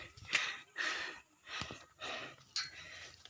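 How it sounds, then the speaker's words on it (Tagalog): Heavy, ragged panting from a hiker worn out after climbing a mountain comes in about five breath bursts, close and fairly soft, with no talking over it. "Hingal na."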